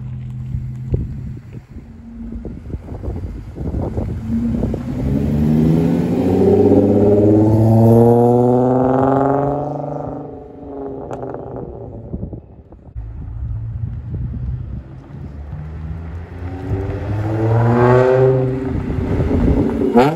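An Audi S5 fitted with an AWE exhaust and JHM downpipes drives past twice, its exhaust note swelling loud and close and then fading, with wind buffeting the microphone throughout.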